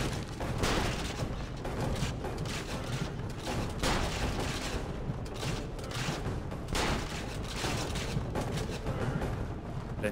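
Heavy booming cannon fire in the video game Assassin's Creed Revelations rolls on continuously, dense and loud, with overlapping blasts and rumble throughout, like cannons in a battle scene.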